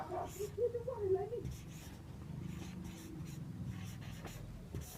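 A pen writes the letters PLAY on paper with soft, scratchy strokes in short bursts, faint and close; a voice is heard briefly at the start.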